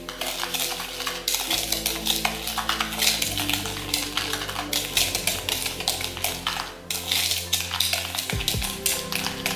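A cup of sugar and a tablespoon of cinnamon stirred in a bowl for snickerdoodle cookies, with a continuous close scraping and rapid clinking of a utensil against the bowl.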